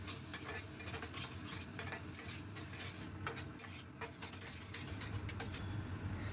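Potatoes and pointed gourd are stirred in a pan with whisked yogurt, Kashmiri red chili powder and coriander powder, giving a steady sizzle and frying hiss with repeated scraping and clinks of the spoon against the pan throughout.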